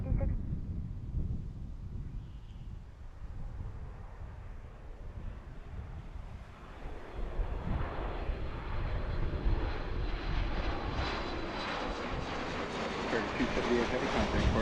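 A Boeing 737 MAX 8 jet airliner on approach to runway 27 left at Philadelphia passes overhead, its engine roar building from a low rumble to a broad, loud whoosh over steady wind noise.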